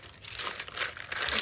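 Parchment paper crinkles and rustles near and close up, a continuous papery crackle over about a second and a half while fudge made with Cool Whip sets, with no talking.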